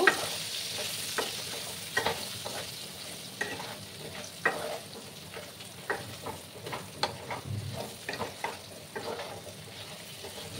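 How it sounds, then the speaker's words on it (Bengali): Pumpkin curry with turmeric being stirred in a frying pan over the gas, a steady low sizzle broken by repeated scraping strokes of a spoon at a loose, irregular rhythm, close and moderately quiet with no talking. "দিয়ে এবার ভালো করে নাড়াচাড়া করে নেব"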